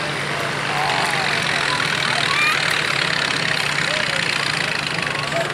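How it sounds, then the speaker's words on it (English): An antique row crop tractor engine chugs steadily at idle at a tractor pull event, loud and continuous, under a wash of outdoor crowd noise. "That is one neat little tractor for sure."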